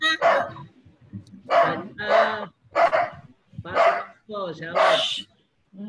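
A dog barks in a series of separate bursts with short pauses between them, loud and close, with no other sound in between.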